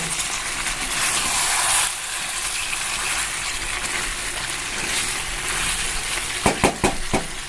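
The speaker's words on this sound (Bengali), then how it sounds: "এভাবে আমরা ভালো করে মাংসটাকে নেড়ে নেব" Mutton being stirred and fried in a pan over a gas flame, a broad steady hiss of frying that stays loud throughout, ending with a few sharp knocks of the spoon against the pan.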